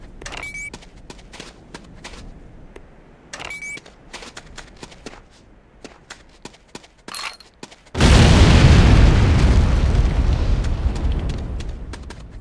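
A C4 charge detonates in the game C&C: Renegade, a sudden huge roaring blast that rumbles on for several seconds after a stretch of sparse clicks and small sharp impacts.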